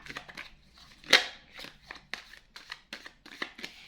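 Tarot cards being shuffled and handled, a series of soft papery flicks and snaps with one sharper louder riffle, close and quiet with no talking.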